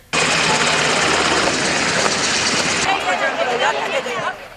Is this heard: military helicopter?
yes